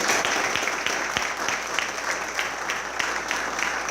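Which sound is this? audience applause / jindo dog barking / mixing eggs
audience applause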